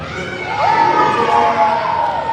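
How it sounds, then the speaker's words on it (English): A team in a classroom-style session erupting in loud cheers and shouts, a burst of excited voices swelling and holding close by. "the Bible team is cheering over you now"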